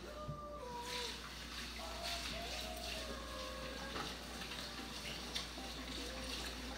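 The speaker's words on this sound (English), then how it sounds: "Let me wash my hands off real quick." Tap water runs steadily into a sink while hands are washed, soft and fairly distant, with a children's cartoon with music and voices playing in the background.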